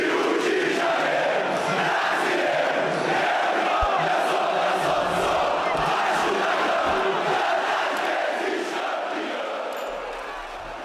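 Vasco da Gama football supporters chanting and roaring together in a packed stadium, a dense, loud crowd sound held steady throughout with a slight fade at the very end.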